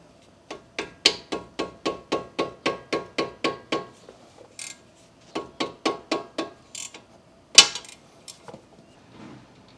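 A ratchet loosens tight bolts on the front brake caliper of a 2019 Jeep Compass 2.4L four-cylinder. Two long runs of evenly spaced, crisp metallic clicks are followed by a sharp clank and a few scattered taps.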